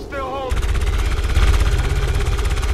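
Rapid automatic gunfire in the turn-based strategy game XCOM 2, dense and loud, rattling in continuous bursts after a brief tonal sound at the very start.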